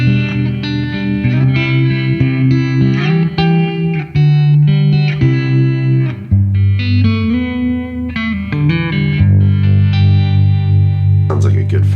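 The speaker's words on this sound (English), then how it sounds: "I love using a harmonic trim, especially on cleaner sounds." Clean electric guitar is played through a harmonic tremolo effect on a Fender Tone Master Pro, ringing chords and notes with a pulsing shimmer, loud and up close with no talking.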